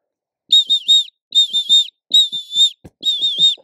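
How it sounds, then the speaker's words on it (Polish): A whistle sounds in four quick bursts of short, sharp blasts, blown without the tongue, loud and close, with faint clicks and breaths in the gaps. "Gdyby potem chcieć zrobić szereg krótkich gwizdków w lesie, gdzie jest echo, bez użycia języka"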